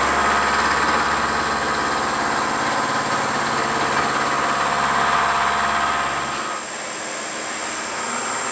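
An Acra CNC knee mill cuts through the last of the material on a bracket at maximum feed and raised RPM, a steady loud machining roar with low vibration that drops away near the end as it breaks through.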